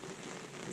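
Steady rain pours down during fishing for giant river prawns in the rainy season, a dense, even hiss of drops on surfaces, close and continuous, with no voices.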